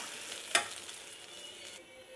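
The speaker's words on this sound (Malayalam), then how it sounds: "അപ്പോൾ നമ്മുടെ വെണ്ടയ്ക്കയൊക്കെ വഴഞ്ഞ് വന്നിട്ടുണ്ട്." Okra sautés quietly in a pan as it is stirred, a soft steady sizzle with one sharp utensil knock near the start, fading slightly toward the end.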